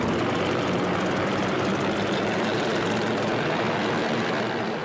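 Engines of a giant flying boat aircraft running up, a loud, steady, broadband propeller roar filling the whole clip without a break.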